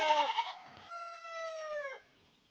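Goats penned in two enclosures on a farm bleat in two loud, wavering calls close by, one short and one longer, with no other sound.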